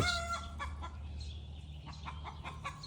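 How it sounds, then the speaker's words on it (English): A chicken clucks in a run of short, repeated calls, the agitated sort heard during egg laying or when upset, sounding fairly close over a steady low background hum with no one talking. "That's the sound of a chicken laying an egg, or when they're upset."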